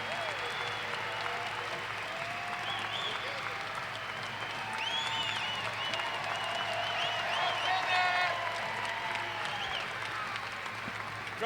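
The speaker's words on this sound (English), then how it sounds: "Crowd shows a little love to Tanner Sloan there after that one." A crowd applauds at a college wrestling dual meet between Air Force and South Dakota State, with steady clapping and cheers swelling midway through, heard from a distance beneath an announcer's commentary.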